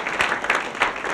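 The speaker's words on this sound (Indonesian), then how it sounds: "Kita tepuk tangan dulu ya." Studio audience applause on a talk show, a burst of many hands clapping with a few sharper peaks, moderately loud and brief, without talk over it.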